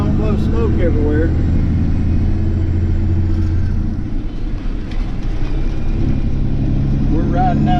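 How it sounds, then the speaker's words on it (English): A Peterbilt 359 truck with a 15-speed transmission rumbles loudly from inside the cab as it eases into 6th gear on a levee road, the engine droning steadily beneath someone talking. "Ease on the throttle, let it slide into 6th gear and feather that throttle so we don't blow smoke everywhere."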